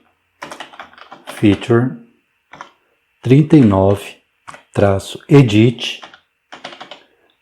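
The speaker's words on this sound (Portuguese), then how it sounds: "Vou digitar git checkout -b" Keys clatter on a computer keyboard as a git command is typed into a terminal, with brief clusters of light clicking between stretches of someone talking close to the microphone.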